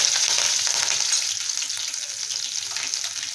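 Six or seven washed curry leaves and green chillies crackle and sizzle in hot tempering oil for a drumstick kadhi, a close, busy frying hiss that eases slightly as it settles, with no talking.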